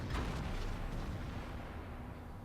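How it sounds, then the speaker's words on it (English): High-explosive anti-tank rounds striking tank armour in a video game, a quiet burst of impact with a fizzing, sizzling tail that fades away over a couple of seconds. "That is the iconic sizzle of a high explosive anti-tank round"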